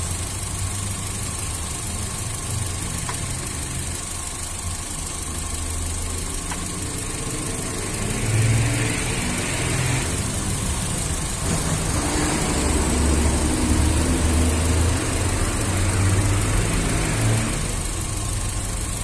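A Honda car engine idling while it runs hot, a steady low rumble with a faint rattle throughout, close and continuous with no talk.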